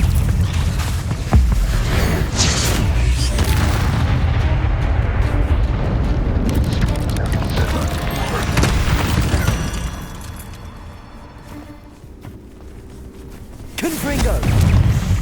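Confringo spell explosions in the game Hogwarts Legacy, loud rumbling blasts and crackling bursts layered with shouted spell incantations, sustained heavy booming that briefly drops away before another explosion.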